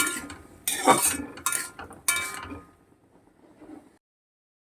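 A utensil stirs and scrapes spices frying in a pan in a home kitchen. There are several loud clattering strokes close by, then softer scraping that fades to near silence, with no talking.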